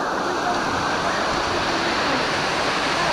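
A steady, dense roar of a waterfall swollen by heavy rain on a farm in Mindanao, loud and continuous, with a broad hiss running unbroken throughout.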